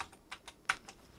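Six or so quick, crisp keystrokes tapped on a Commodore Plus/4 computer keyboard, close and fairly quiet, with one sharper press near the middle and no voices.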